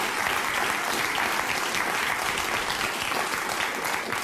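Dense, steady clapping from an audience fills the whole stretch at an even loudness, heard within a played recording, with no voices standing out.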